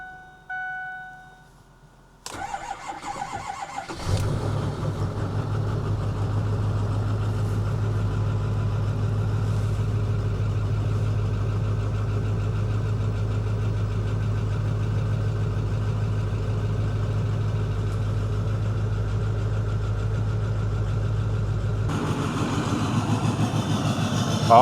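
A Power Stroke diesel truck engine cranks and catches, then settles into a steady, rumbling idle that carries on close and loud with little variation.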